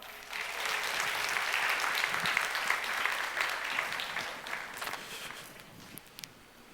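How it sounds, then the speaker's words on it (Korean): Sustained applause from a congregation at a church young adults' worship service fills the room for several seconds, dense and steady before thinning out with a few last scattered claps. "다시 한번 전체적으로 인사드릴 때 뜨거운 박수 부탁드립니다."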